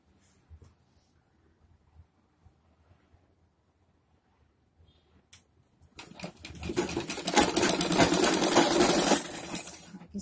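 A sewing machine stitching the lining of a padded blouse starts after a near-silent stretch with a few faint taps, then runs in a steady, fairly loud whirring burst for about four seconds.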